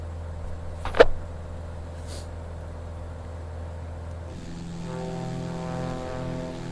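Beechcraft BE24 Sierra single propeller engine in a flight simulator, a steady droning hum that shifts into a higher harmonic whine partway through, with a short click early on, close and moderate in level.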